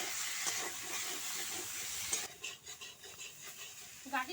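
Taro stems (gathi kochu) sautéed with salt, turmeric and spices in a pan give a steady close sizzle and hiss, joined midway by scraping stir strokes in an uneven rhythm.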